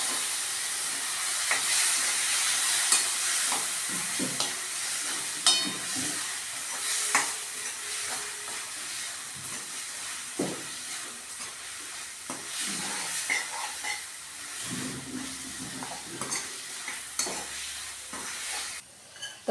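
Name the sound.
boiled drumstick and potato being sautéed and stirred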